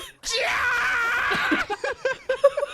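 A loud, piercing scream bursts out and holds for over a second, then breaks into a run of short, choppy shrieks and squeals near the mic.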